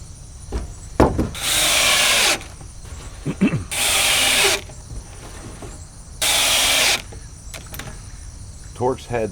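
Power drill driving Torx head deck screws into wooden 2x4s, three sustained loud whirring bursts of about a second each, separated by pauses filled with softer clicks and handling knocks.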